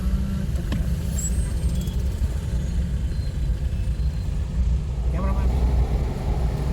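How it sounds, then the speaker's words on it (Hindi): Steady city road traffic in Hyderabad, a continuous dense rumble of engines with occasional higher mechanical whines and a brief hiss near the end, heard from close by with a faint voice underneath. "और ये एवर सो फेमस हैदराबाद का ट्रैफिक।"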